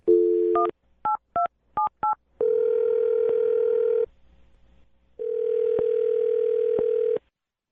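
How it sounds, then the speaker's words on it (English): A steady dial tone, then a quick series of beeping keypad tones, followed by two long stretches of loud, continuous ringback-style tone with a short quiet gap. "I'm going to dial his phone number right now"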